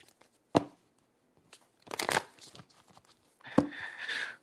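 Three short bursts of papery tarot card shuffling, each a quick riffle and flutter separated by brief pauses, close by with no talking.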